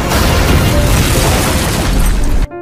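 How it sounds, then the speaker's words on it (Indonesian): A car exploding after being shot from below, a loud, dense roaring blast of broadband noise sustained for over two seconds before cutting off abruptly into near silence. "Mereka sengaja menembak dari sisi bawah hingga menyebabkan mobil meledak."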